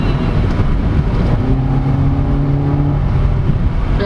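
Engine of a 2024 Suzuki XL7 Hybrid strains under acceleration while driving, a droning rev that climbs in pitch over road and wind noise inside the cabin.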